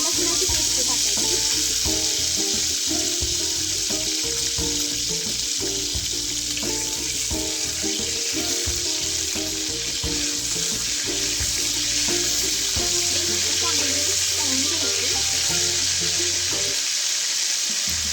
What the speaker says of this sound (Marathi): चमचा आलं लसणाची पेस्ट टाकायची.